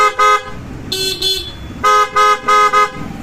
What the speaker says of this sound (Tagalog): Busina po.